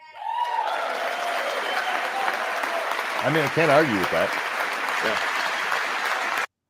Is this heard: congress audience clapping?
yes